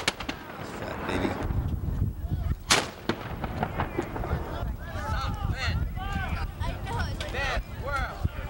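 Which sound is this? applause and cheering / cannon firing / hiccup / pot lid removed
cannon firing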